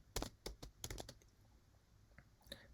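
Quick keystrokes on a computer keyboard spelling out a short word, a cluster of crisp close clicks in the first second, then a quieter gap and a final tap or two.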